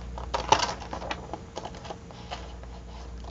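Scissors trimming paper pages during a scrapbook swap-and-glue craft session, heard as soft, close snipping and rustling in a quiet room, with small irregular crisp clicks and one sharper snip early on.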